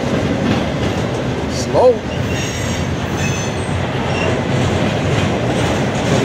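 A freight train rumbles past close by with a steady, dense roar and faint wheel squeals; a voice briefly speaks partway through.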